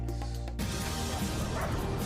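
A dog barking sound effect plays during a game show reveal, short repeated yips over a loud, dense bed of crowd or music noise that starts abruptly.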